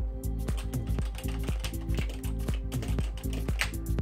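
Soft, quiet keys on a budget combo keyboard are typed in a steady, quick clatter of close, muffled clicks that continues without pause.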